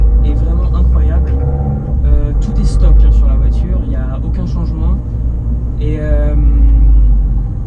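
An Abarth 595 Competizione engine rumbling at a steady low drone from inside the car, with someone talking over it throughout.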